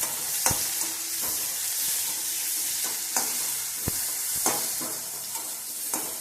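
Garlic, onion and tomato sauté in a pan over low heat, giving a steady hiss with regular sharp taps and scrapes of a stirring spoon.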